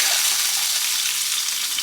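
Vegan pancakes cooking in a hot pan give off a steady, close, bright sizzle that holds evenly throughout with no voices.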